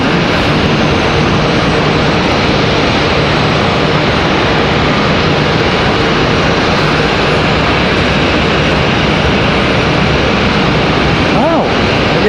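A Republic Airways jet airliner out of LaGuardia rumbles loudly and steadily at Raleigh-Durham, a broad continuous engine roar filling the whole stretch, with a brief rising whine near the end.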